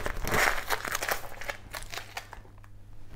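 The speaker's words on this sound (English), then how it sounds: "So what I'm going to do is to remove this tape from here." Tape peeled by hand off the rope-pattern rosette of a guitar under construction, giving close crinkling, crackling rips in a burst of uneven pulls that fade out toward the end.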